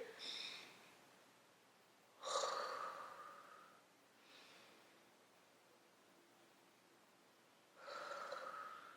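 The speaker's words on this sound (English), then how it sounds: "Breathe in and out." A person breathes deeply in and out, each long airy breath rising and fading, four breaths spaced several seconds apart, close and soft in a quiet room.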